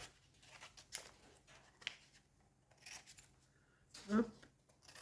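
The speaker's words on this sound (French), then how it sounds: "La petite pointe là, je vais la couper." Scissors snip off a small tip while crafting a keychain, giving a few quiet, sharp cuts spaced apart against a hushed room, with faint handling noise between them.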